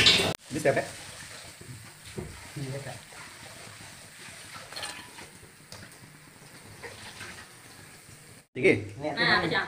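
Oil heats and masala chickpeas fry in a home kitchen pan, a steady broadband sizzle with stirring scrapes throughout, sharper bursts at the start and end, and a voice talking over it.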